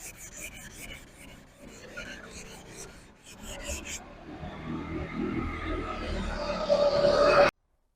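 Repeated rasping strokes of sandpaper rubbing a car headlight's hard plastic surface, rhythmic at first, then a steadier, louder scrubbing toward the end.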